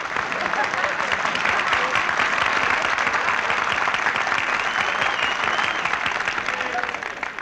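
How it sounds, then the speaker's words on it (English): A studio audience at a 1943 Jack Benny Christmas radio show breaks into loud, sustained applause, a dense wash of clapping that holds steady for several seconds before starting to fade at the end. "Nobody was supposed to applaud there."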